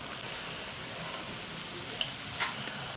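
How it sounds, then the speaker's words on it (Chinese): Free-range chicken with seasoning frying in a pan gives a steady, close, dense sizzle that hisses continuously, with a couple of brief sharp pops and no talking. "把鸡肉里的调料往出煎一下"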